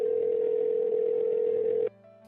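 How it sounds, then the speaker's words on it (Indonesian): A phone line tone from the anime Wind Breaker holds one steady, loud pitch for almost two seconds, then cuts off abruptly into quiet. "Nirai pun lalu menelpon Sakura"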